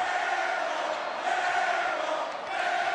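A basketball student crowd packing an arena at a West Virginia game, jeering after an air ball: a dense, loud, sustained roar of many voices with rising taunting shouts throughout.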